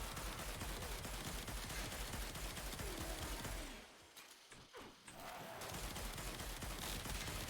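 Panthera Prime weapon firing in Warframe gameplay: a dense, rapid rattle of gunfire runs loud and continuous, drops out briefly in the middle, then resumes just as busy.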